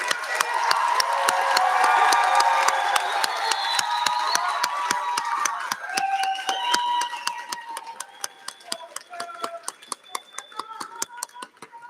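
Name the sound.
applause and cheering at a graduation ceremony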